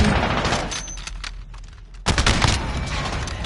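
Call of Duty: Modern Warfare multiplayer gunfire, with sniper shots among it: loud continuous automatic-weapon fire that dips briefly midway, then a sharp heavy shot brings the firing back at full intensity.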